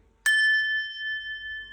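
An antique crystal glass is struck once, giving a sharp tap followed by a clear, bell-like ringing tone that sustains and slowly fades, heard close and alone in a quiet room.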